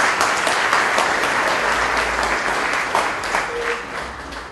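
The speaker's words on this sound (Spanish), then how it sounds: "Un aplauso de bienvenida para el licenciado Benavides, quien expondrá este tema." An audience in Guatemala gives welcoming applause to a lecturer, dense steady clapping at moderate level that gradually tapers off.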